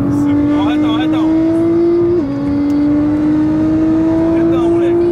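Nissan GT-R Godzilla driving fast on a road trip to the beach, its engine droning loud and close from inside with a rising pitch, one brief shift dip midway, and tire and wind noise underneath.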